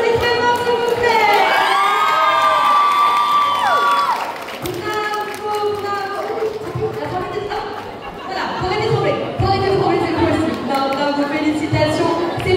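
A crowd at a cosplay contest at a fantasy and Japanese pop culture fair cheers loudly for a cosplayer, with high shouts and whoops, some chatter and scattered clapping mixed in.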